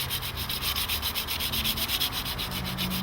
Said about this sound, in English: all we need to do is clean up the blade, re-hone it, sharpen it up